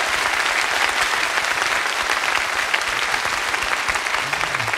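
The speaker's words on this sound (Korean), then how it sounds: "오늘 멋진 말씀해 주신 교수님께 다시 한번 감사의 박수를 부탁드립니다." An audience claps in thanks to a professor at the end of a lecture, a dense, sustained round of applause from a large crowd filling the whole moment.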